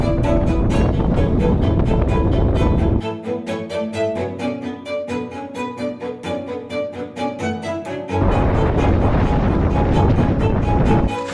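Strong wind on the exposed summit of Ralston Peak: loud, continuous roaring gusts buffet the microphone throughout, easing somewhat in the middle before surging back.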